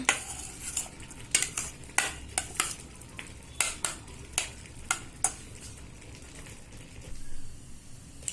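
Mustard seeds, curry leaves and dry chillies tempering in hot oil for a lentil curry, with a series of sharp metallic clinks and scrapes of a utensil against the pan over a low background sizzle.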